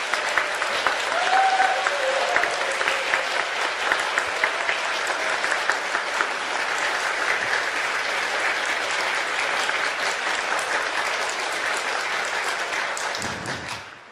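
A large audience at a strike-themed event greets a guest, a Sisa IN journalist, with loud, sustained applause lasting many seconds, a dense steady roar of clapping that tapers off at the very end.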